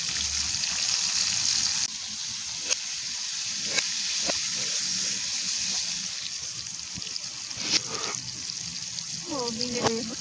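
Cinnamon, cardamom, cloves and onion frying in hot oil, a steady close sizzling hiss with occasional pops and clinks of a utensil in the pan.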